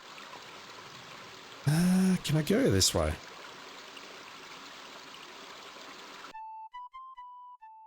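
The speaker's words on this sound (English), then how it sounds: "With a fine view of the rushing river." Rushing river in the video game King's Quest V, a steady hiss of flowing water that someone briefly talks over before it cuts off abruptly into a few soft melodic tones.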